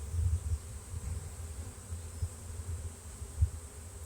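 Honeybees buzz densely around an open hive while the crown board is lifted over full-sized brood foundation frames, a close, continuous low drone with brief louder swells as individual bees pass near.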